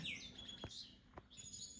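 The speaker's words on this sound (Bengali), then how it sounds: "এই যে মা পাখি আসছে" A mother common tailorbird gives a few sharp high chirps, faint and slightly distant, with short pauses between calls in a quiet setting.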